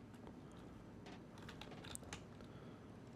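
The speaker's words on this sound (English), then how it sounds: "that noise is me trying to press the letter Q on the keyboard" Computer keyboard keys are pressed in a few soft, faint clicks, a quiet scattered tapping over a steady background hiss.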